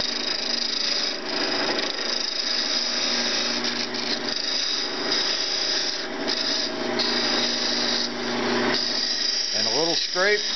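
Wood turning on a lathe while making drumsticks: a steady, loud scraping and rubbing whine from the spinning wooden blank against the tool runs throughout, ending with a short rising mechanical tone.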